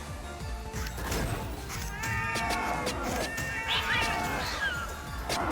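A cat in a video game meows and caterwauls several times, loud and close, over a busy layer of game effects and background noise.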